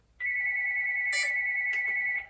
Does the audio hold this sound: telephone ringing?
yes